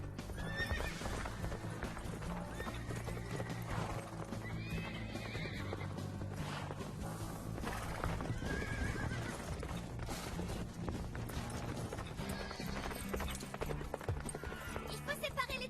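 A stallion on a ranch clip-clops with steady hoofbeats and lets out whinnying neighs, close and prominent, with voices and a background score running underneath.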